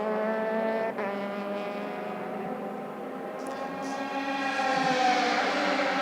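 Race cars head downhill toward the braking zone at the first turn, their loud, close engine whine holding steady, then shifting in pitch as they slow.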